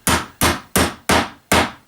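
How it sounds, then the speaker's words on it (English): A small hammer taps pins into model railway track, five sharp, evenly spaced strikes about a third of a second apart, close and loud with no talking. "I'm not going to pin every single hole down, but with a small hammer to get it going."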